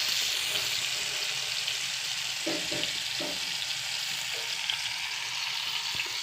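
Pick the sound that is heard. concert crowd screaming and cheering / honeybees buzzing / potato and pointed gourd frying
potato and pointed gourd frying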